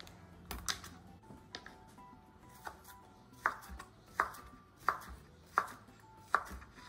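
Sausages are chopped into small pieces on a board with a knife, a run of sharp, evenly spaced cuts landing about once every second, fairly faint and with no voices.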